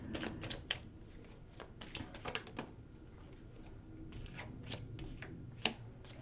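A deck of angel cards is shuffled in soft, rapid riffles and flicks, close by and fairly quiet, with irregular bursts of papery snapping.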